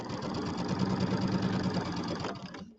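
Sewing machine stitching a quarter-inch seam, a rapid mechanical whirring chatter running steadily at close range, then stopping abruptly at the end.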